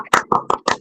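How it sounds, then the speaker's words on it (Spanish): Applause from participants in an online meeting, a brief run of five or six close hand claps coming through a microphone, slightly compressed, with no talk over it. "Se permite abrir micrófonos y dar un aplauso"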